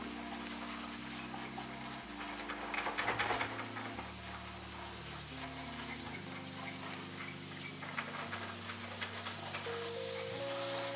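Chorizo frying in a pan as it is broken into pieces, a steady sizzle with scraping and stirring, clattering bursts from the utensil, and background music running throughout.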